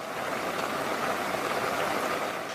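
Floodwater rushes through flooded city streets in Rio Grande do Sul, a steady, dense broadband roar of flowing water filling the scene without pause or voices.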